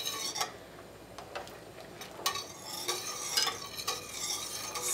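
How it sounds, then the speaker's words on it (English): A spoon stirs butter into a pan until it melts, making quiet intermittent scraping and tapping strokes over a soft, low sizzle, close by and with no voices. "stir it in until it melts."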